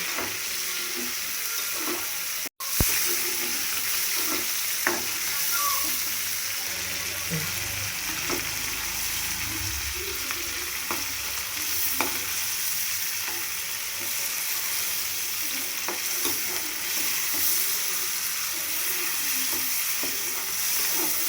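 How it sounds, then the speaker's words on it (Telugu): Mutton brain fries in hot oil with a steady, even sizzle, and a spoon stirs it gently now and then, close by and continuous throughout. "అది ఆయిల్లో వేయాలండి. దీన్ని మెల్లగా కలుపుతూ ఉండాలి."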